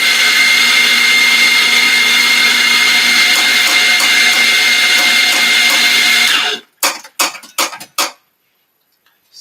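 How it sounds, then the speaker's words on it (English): An electric grinder whirs loudly and steadily as it grinds coffee beans close by for about six seconds, then stops, followed by a few short bursts and a faint clatter. "Okay, now I'm going to grind coffee."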